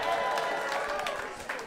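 A comedy show audience claps and cheers at the end of a stand-up set, a dense burst of applause that fades gradually with a voice over it.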